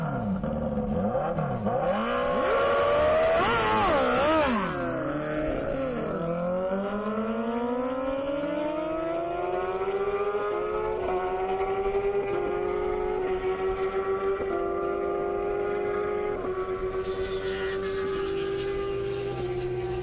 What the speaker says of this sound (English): John in the CBR 1000RR. Travis in the Ninja ZX10R.